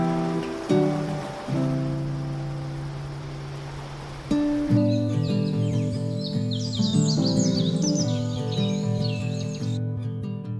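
Birds sing high in the Brazilian rainforest canopy, quick chirps and trills fluttering over a sustained, steady tonal backdrop, moderately loud and continuing for several seconds.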